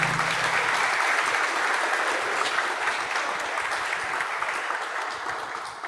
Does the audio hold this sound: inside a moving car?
no